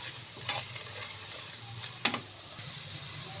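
Onions frying in a pot with whole cloves, a bay leaf and star anise give a steady low sizzle, with two brief stirring scrapes standing out near the start and midway.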